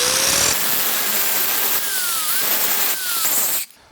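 An angle grinder grinds a freshly forged steel cold chisel in a smithing shop, a loud steady whine running for about three and a half seconds before cutting off abruptly.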